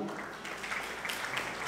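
Applause from a crowd at a Nepali film event, a moderate, continuous wash of clapping that stays fairly even throughout, with no voices standing out.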